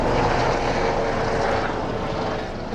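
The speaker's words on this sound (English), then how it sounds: "The police helicopter." A police helicopter passes over a quiet residential area, its broad rotor and engine roar loud and steady overhead, easing slightly toward the end, with no voices.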